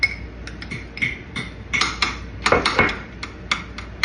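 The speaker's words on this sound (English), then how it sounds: "And I'm just going to give it a good mix." Garlic and butter are mixed into scooped-out bone marrow, producing close irregular clinks and scrapes of a utensil against a bowl in uneven bursts.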